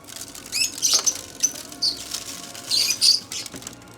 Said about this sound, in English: All those birds chirping.